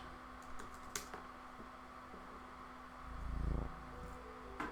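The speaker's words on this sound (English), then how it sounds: "I am typing in this chat." Scattered keystrokes on a computer keyboard while typing into a chat during an online session of the Pathfinder Adventure Card Game, sparse clicks against a low hum, with a muffled bump midway.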